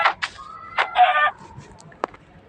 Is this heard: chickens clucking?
yes